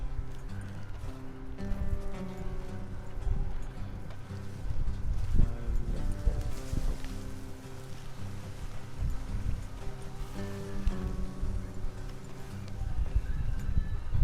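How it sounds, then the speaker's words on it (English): Horses walking along a road in the Red Dead Redemption 2 video game, steady overlapping hoof clip-clops under low rumbling game music and ambience, continuous and moderately loud. "Let's leave the horses here and go the rest on foot."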